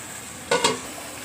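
Spice paste being sautéed in a pan, with a soft sizzle and two quick spatula scrapes close by.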